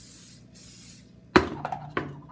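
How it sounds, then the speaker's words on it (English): Cooking spray hisses onto a pancake griddle in two bursts, a longer one then a shorter one, close and fairly loud over a quiet background. "I'm gonna spray my griddle again."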